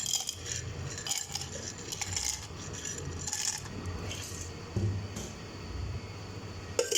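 Ice cubes rattle and clink inside a metal cocktail shaker being shaken, faint, irregular metallic clatters with brief louder bursts over a quiet room hum.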